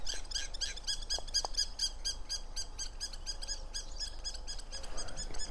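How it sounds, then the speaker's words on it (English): Small birds calling outdoors in a steady series of high, thin repeated chirps, moderately distant over a soft background hush. "So expect to hear more birds"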